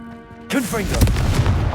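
The Confringo blasting spell in Hogwarts Legacy: a tonal hum breaks suddenly into a loud, rumbling explosive burst that swells and carries on with crackling debris, close and full, and a voice is heard at the start.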